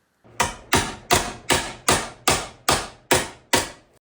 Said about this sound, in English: I had to do the last bit with a hammer and dolly